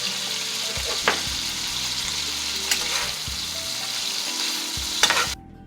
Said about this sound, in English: I figured I'd give you guys a little sound of the sizzle